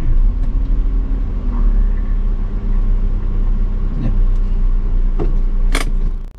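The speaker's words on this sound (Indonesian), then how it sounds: "misalkan menanjak ini nggak tahan, nggak maju mobilnya, harus tambah gas begini tipis" Car engine idling and given a light touch of throttle while creeping uphill in stop-and-go traffic, a loud, steady low rumble close by with a few faint clicks and rattles, no speech.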